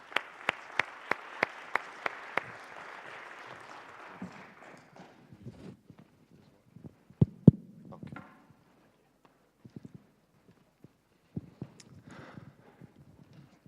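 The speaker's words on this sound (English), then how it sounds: "a warm applause for you" Audience applause at a plenary conference session, opening with a few sharp, evenly spaced claps, then a brief patter that thins quickly into scattered, isolated claps and faint shuffling.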